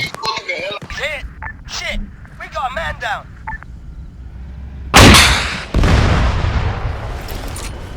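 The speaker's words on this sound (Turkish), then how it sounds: "Oo mortar yedik." Shouting voices give way to a loud, sudden mortar blast in a video game around the middle, followed by a long roaring rumble of debris and noise.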